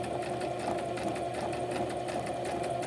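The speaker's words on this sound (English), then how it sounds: "So I do a zigzag stitch" A sewing machine runs a zigzag stitch, humming and clattering steadily and close by for the whole stretch without a break.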